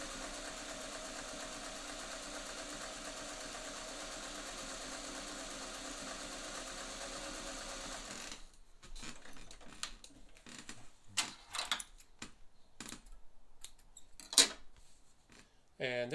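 A Singer 400 series sewing machine stitching a fine zigzag satin stitch runs with an even, continuous mechanical hum for several seconds, then stops, leaving quieter scattered clicks and handling noises up close.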